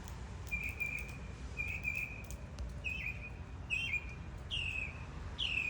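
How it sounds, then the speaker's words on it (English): A mockingbird sings a string of clear, repeated whistled phrases and chirps in short bursts, steady and fairly close, over a constant background hiss of rain. "That's a mockingbird singing in the background."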